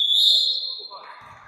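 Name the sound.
referee's final whistle at end of match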